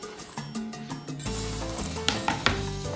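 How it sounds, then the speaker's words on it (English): Sliced raw onion gets stirred into a cube steak marinade for Puerto Rican bistec encebollado, producing wet, squelching, crackly mixing sounds in short repeated strokes, close up with no talking. "Mix it up."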